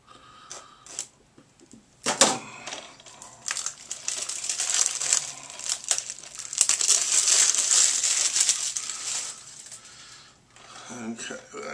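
Crinkly plastic crunching and snipping as scissors cut plastic DVD packaging, close and fairly loud, continuing for several seconds with brief pauses and a voice murmuring in places.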